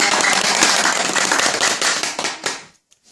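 A church Bible-college class breaks into loud, dense applause from a crowd, steady for over two seconds before fading quickly into silence.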